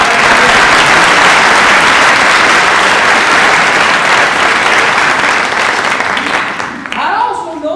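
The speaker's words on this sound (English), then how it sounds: "How about a round of applause?" Sustained, dense applause fills a theater audience, steady and loud throughout before thinning slightly near the end.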